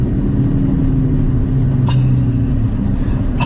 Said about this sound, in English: I love the sound that this car is producing already.